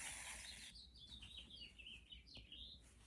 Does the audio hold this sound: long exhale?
no